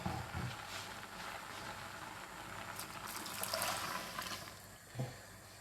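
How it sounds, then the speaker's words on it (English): Water pours into a pot of Jamaican ackee, kale and pumpkin rice as it is being cooked, a soft trickle and splash with a couple of brief clunks, heard close and faint. "And then we're gonna add some water."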